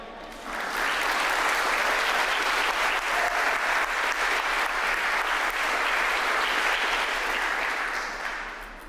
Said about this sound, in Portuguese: Vamos dar uma salva de palmas então?